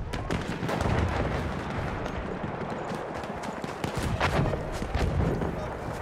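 Gunfire in the video game Battlefield 1, a dense, loud battlefield din of shots and blasts that continues without a break, with speech mixed in.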